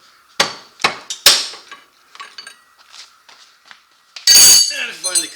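Metal hammer blows on a wedge-style puller, knocking the axle off a Can-Am Outlander XMR ATV: three sharp strikes close by, lighter taps and clinks, then a loud clattering burst near the end.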